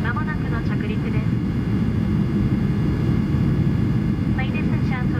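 Steady low roar of a Solaseed Air passenger jet cabin on final approach to Oita Airport, a loud continuous engine and air rumble throughout, with a voice speaking over it near the start and again near the end.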